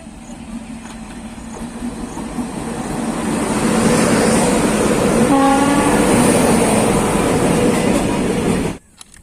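A train rumbles past close by, growing louder as it nears, with a brief horn blast midway before the noise cuts off abruptly at the end.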